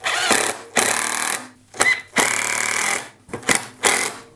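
A power drill bores pilot holes for screws in a wooden side table, running in several loud, close bursts of varying length separated by brief pauses.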